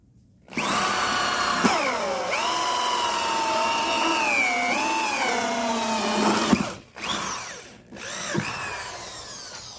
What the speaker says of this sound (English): I'm going to go ahead and drill another hole somewhere down in this area